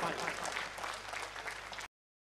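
Applause from a mushaira audience, loud and steady as a single sustained burst of clapping, with a few voices mixed in before it cuts off abruptly.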